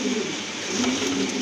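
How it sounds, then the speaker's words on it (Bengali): A domestic pigeon held in the hand gives a low, throaty coo, close and clear with a soft rolling pulse over steady background noise. "এখন যে কোনো একটা কবুতর ধরে দেখাই আমি।"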